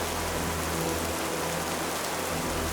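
Steady, dense heavy rain hisses continuously across the whole stretch, loud and unbroken, with no voices.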